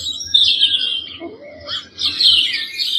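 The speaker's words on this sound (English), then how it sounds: "And then you have like a forest, you have the birds." Forest birdsong played from an AIRIVO Moon night light alarm clock, with steady overlapping chirps and tweets, loud and continuous without talk.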